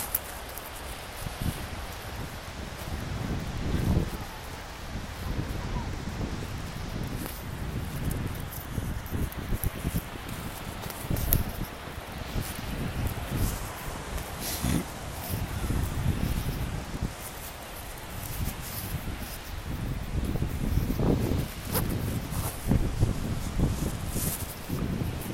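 Gusty wind during a nor'easter snowstorm in New York, a steady rushing roar with buffeting gusts and rustling bursts against the microphone throughout, no talk.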